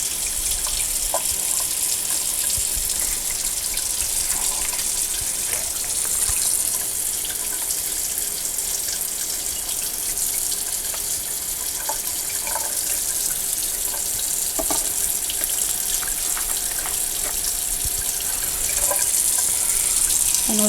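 Cold tap water pours steadily into a kitchen sink, a continuous hissing gush with a few faint clinks and drips, close and unbroken throughout.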